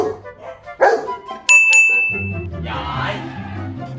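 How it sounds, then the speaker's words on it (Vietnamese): A Golden Retriever barks twice on command to answer a simple sum, sharp and close, while a bright ringing ding sounds between the barks and murmuring follows. "Ví dụ như đáp án bằng 2 sẽ sủa 2 tiếng."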